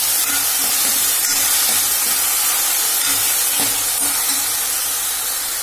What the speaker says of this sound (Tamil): அதுக்கடுத்தது இஞ்சி பூண்டு பேஸ்ட், இதை போட்டு இதையும் நல்லா வதக்கி விடுங்க